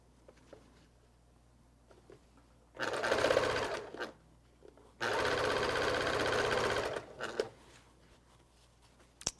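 A sewing machine stitches quilt block pieces for a checkerboard star quilt block in two steady bursts, about two and four seconds long, with short quiet pauses around them and no talking.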